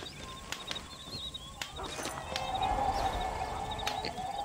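Video game horse hooves in Red Dead Redemption clop in a slow walking rhythm, fairly faint, with light birdsong and an ambient hum in the background.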